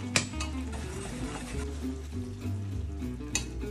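Frog legs in a mushroom, garlic, white wine and cream sauce simmer in a pan with a steady soft bubbling sizzle, marked by a few sharper clicks and stirring sounds.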